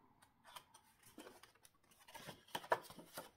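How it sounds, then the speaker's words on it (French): Quiet snips of scissors cutting through card for a pull-tab card, a series of short crisp clicks and slices at an uneven pace, close up. "soit vous prenez les ciseaux"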